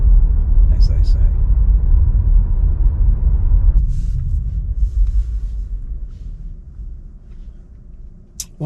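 A Tesla Model 3 electric car pulling away under light acceleration, heard from inside as a loud low rumble and road roar that fades gradually, with someone talking over it.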